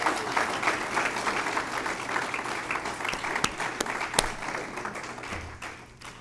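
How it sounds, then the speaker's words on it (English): An audience gives a speaker a round of applause at a formal event on Caribbean reparations, a dense, steady clatter of many hands that fades gradually over six seconds. "he deserves another round of applause"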